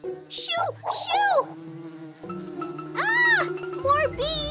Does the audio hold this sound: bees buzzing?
yes